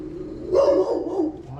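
A backyard garden in Hawaii carries a single short dog bark, close and fairly loud, that rises over a quiet background and trails off within about a second.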